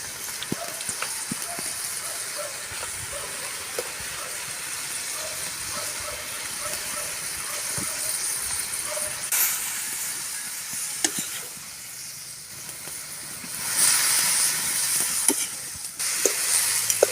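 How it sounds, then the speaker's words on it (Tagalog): Soft bubbling and hissing of water boiling in a pot for pancit puti, steady and close, with occasional clinks and a louder hiss toward the end. "kumukulo na po yung tubig natin"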